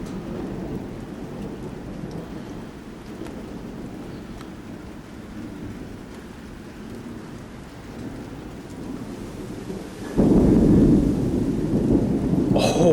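An electrified thunderstorm with lightning striking near a transformer: steady heavy rain with rolling thunder, then a sudden louder, close crack and rumble near the end.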